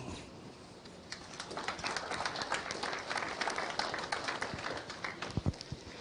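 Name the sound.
audience applause for farm show exhibitors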